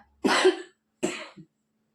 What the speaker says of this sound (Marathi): मला पण आता खोकला यायला लागलाय